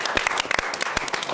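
A studio audience on a French TV debate show gives brief applause, a short burst of scattered claps with distinct individual hand strikes near the front.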